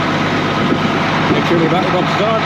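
An ERF truck engine on a fast tick over while warming up, a steady, close diesel hum running throughout beneath someone talking.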